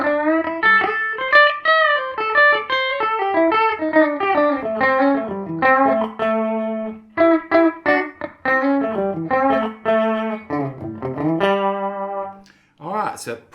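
An Oscar Schmidt OE20 Les Paul-style electric guitar on its bridge pickup plays a melodic lead line of bent and sustained notes, clear and alone, ending in a quick flurry.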